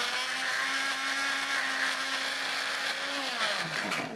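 A kitchen blender grinds cooked fish with four or five spoons of cooking oil and no water to make fish floss, a loud steady motor whine that shifts pitch near the end as the load changes.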